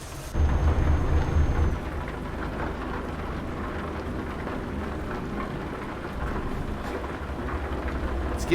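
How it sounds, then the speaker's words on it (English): Steady rain with rumbling thunder while driving a loaded truck in a trucking simulator game set in Scotland; a deep rolling thunder burst early, then continuous hissing rainfall and low engine drone. "The rain's picking up. I got thunder and lightning now."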